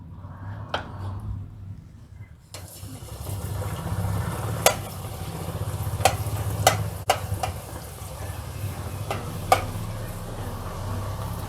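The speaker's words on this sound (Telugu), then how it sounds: "నూనె బాగా వేడి కావాలండి, లేకపోతే తొందరగా కాలవు." Masala peanuts fry in hot oil, a steady close sizzle that swells after a quiet start, with occasional sharp clinks of a slotted spoon against the pan.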